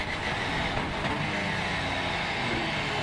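A race car engine accelerates on board during a Supercar Challenge race at Assen, with a steady, loud roar and constant high-pitched drone heard from inside the car.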